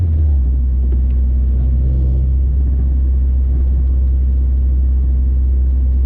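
Honda Civic Si, eighth generation, with a swapped K24A engine, cruising in sixth gear: a steady, loud low engine drone and road rumble run throughout with no talk.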